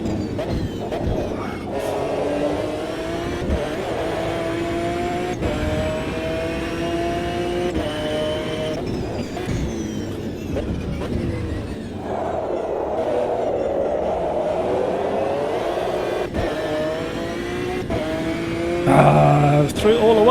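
Race car in the AMS2 sim racing game downshifting to first gear, engine revving and pitch sweeping up and down over sustained loud drive, with tyre strain and a voice talking briefly.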